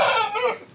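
Chickens of a breeding stock sold at market, sounding a short, loud burst of clucking and rooster-like calling up close, with no one talking.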